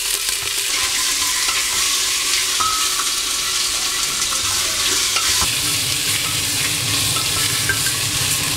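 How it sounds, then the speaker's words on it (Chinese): Pork ribs and ginger slices stir-fried in a hot wok, a continuous loud sizzle with scraping and stirring throughout. "再把排骨放进去炒香，炒过的排骨这个汤味才会更浓"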